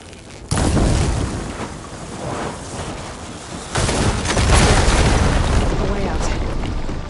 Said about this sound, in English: Hitting those blaze barrels with fire ammo should do the trick.